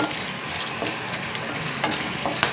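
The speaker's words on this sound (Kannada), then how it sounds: "ಲವಂಗ ಸಿಡಿಯುತ್ತೆ ಅಲ್ಲಿವರೆಗೂ ಒಂಚೂರು ಫ್ರೈ ಮಾಡ್ಕೊಳ್ಳೋಣ" Cloves and cardamom frying in hot oil for a chicken sambar, giving a steady close sizzle with scattered small crackles and pops over about two seconds, no voices.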